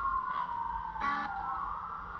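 Sirens wail far off near woods, a steady wavering tone with one brief brighter swell in the middle, faint and continuous.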